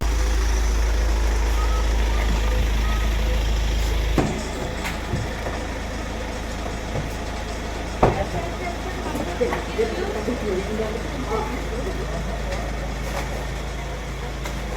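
A car is driven into the grounds of a house while a steady reversing beep and low engine hum play, then fade into background chatter, with occasional bumps and voices talking nearby.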